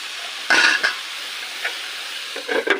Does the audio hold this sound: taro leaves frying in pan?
yes